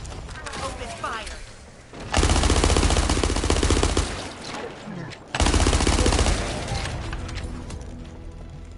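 Video game gunfire comes as two long, loud bursts of rapid automatic fire close to the listener, with quieter combat noise between and after them.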